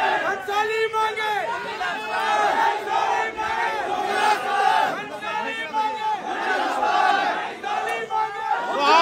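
A large crowd at a torch-lit rally in Akhodi chants slogans in loud rhythmic waves, voices surging together in repeated call-and-response for the whole stretch.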